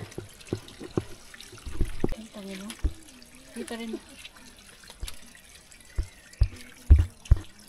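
Spring water trickles and drips softly near Buntot Palos (Hidden) Falls in Pangil, Laguna, while people talk nearby, with a few louder splashes and knocks toward the end.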